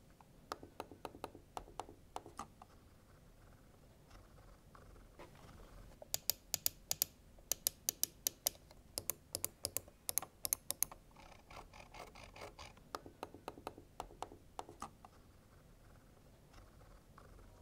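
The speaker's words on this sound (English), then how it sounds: "here's a quick sound test of clicks of this mouse versus other mice." Mouse buttons are clicked in quick rhythmic bursts, starting with a Logitech M355 silent mouse and moving on to other mice. The clicks are close and faint to moderately loud, some sharper and brighter than others, over a quiet background.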